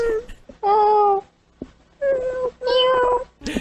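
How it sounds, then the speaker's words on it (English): Several drawn-out, wavering meows rise and fall in bursts with short gaps, harsh and loud, like cats yowling close by. "Sound like a bunch of dying cats."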